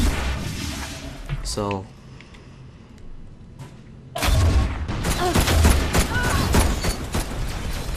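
Scout rifle gunfire in Destiny's Iron Banner multiplayer, loud digital shots that break out after a brief quieter lull and continue as a dense, sustained volley of game combat noise.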